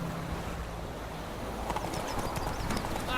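The horse Roach trots along a road in The Witcher 3, a soft rhythmic clip-clop of hooves over a windy outdoor ambience, moderately loud and continuous, with faint clattering ticks in the latter half.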